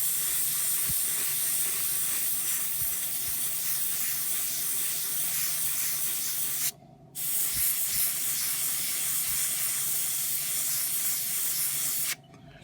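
An airbrush sprays Tamiya XF62 olive drab acrylic paint in a steady close hiss that runs continuously, broken by two brief pauses.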